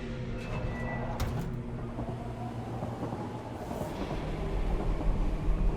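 A metro train in a video game rumbles steadily, with brief metallic squeals and clanks early on and the rumble swelling toward the end.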